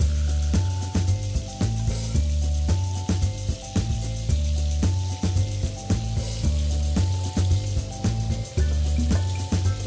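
Butter and lemon juice sauce sizzling in a pan for stuffed pork chops, a steady loud hiss and crackle that runs through the whole stretch with no voices.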